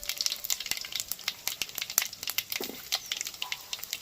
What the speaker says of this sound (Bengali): তেল দিয়ে এবার দিয়ে দেবো পাঁচ ফোড়ন আর তেজপাতা